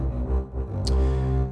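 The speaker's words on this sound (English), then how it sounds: "Or at the lower end of the scale, we've got the double bass," A double bass plays sustained low notes with a rich, full tone that stays steady and fairly loud from start to finish.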